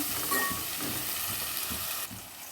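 Onions frying in a pan for egg pulao give a steady, close sizzle with faint stirring, heard alone without talk.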